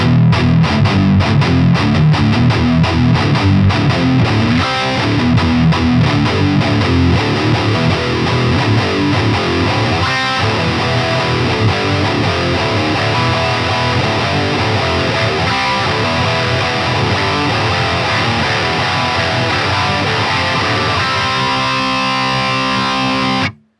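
Heavily distorted electric guitar plays a chugging palm-muted riff, dense and loud for the whole stretch, with a brief opening up near the end.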